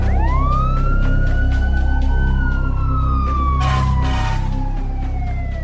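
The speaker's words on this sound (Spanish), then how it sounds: "La sirena de la ambulancia y el camión de bomberos se oyeron a lo lejos." Emergency sirens from an ambulance and a fire engine wail with rising and falling sweeps, loud and sustained over steady traffic-like background noise, with no one talking.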